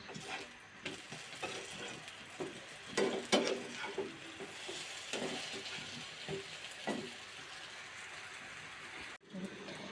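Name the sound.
frying eggplant slices in a pan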